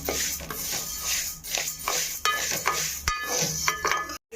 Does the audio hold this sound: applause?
no